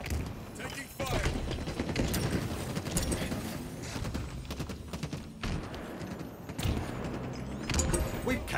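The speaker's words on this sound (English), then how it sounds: "Taking fire." Gunfire in Halo Infinite multiplayer on Xbox Series S: a dense, continuous barrage of shots and explosions with mechanical clatter, loud throughout, mixed with game announcer callouts.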